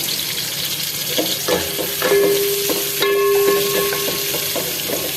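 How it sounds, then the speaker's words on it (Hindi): Onions and garam masala spices sizzling and frying in a pan with occasional stirring scrapes and light clinks, steady and close, no talking. "और हल्की सी सौटे करनी है प्याज को।"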